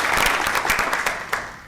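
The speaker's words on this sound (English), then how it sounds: "They all deserve a round of applause." Brief, lively applause from a conference audience, loud at first with distinct individual claps, then fading toward the end.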